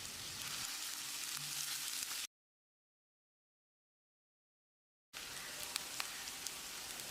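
Chopped onions sizzle steadily in a pan with mustard seeds as they fry toward golden, a soft continuous crackle that cuts out into silence for a few seconds, then returns.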